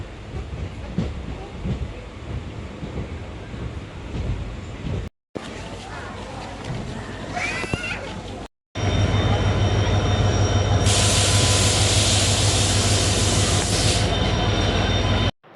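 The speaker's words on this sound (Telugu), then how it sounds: "రామేశ్వరం రైల్వే స్టేషన్కి అయితే వచ్చేసాం మనము సో ఇది రామేశ్వరం రైల్వే స్టేషన్" A train at Rameswaram railway station rumbles and clatters, with squealing wheels and a loud steady hiss building in the later part. The noise is close and continuous.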